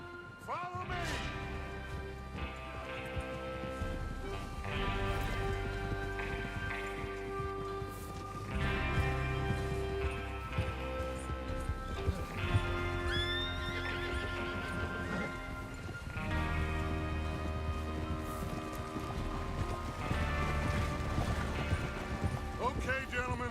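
In Red Dead Redemption 2, a group of horses is ridden at a steady pace, with repeated hoofbeats and occasional neighs heard against constant game music and ambience over a long stretch.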